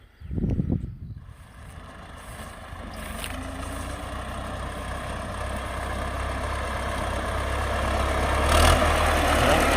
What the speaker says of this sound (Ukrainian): Тракторець шепче.